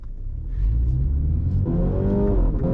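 A 2021 MINI Hatch JCW rated at 231 horsepower accelerates on a test drive, its engine rumbling loudly and building steadily in pitch, with a rising whir close inside the cabin and no talking.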